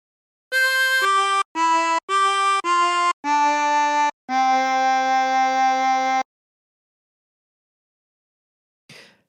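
Chromatic harmonica playing a short Silent Night phrase: six clean sustained notes, the last held longest, loud and close, followed by silence and a faint breathy noise at the end.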